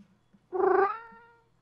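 A single cartoonish cat meow from the video game Mushroom Cats, clear and close, rising quickly and trailing off over about a second, with no talk around it.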